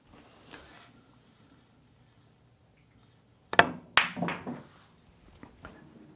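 Pool balls struck with a high-left english shot on a billiards table: two sharp clacks of cue and ball contact close together, followed by softer rolling knocks and a faint later tap, in an otherwise quiet room.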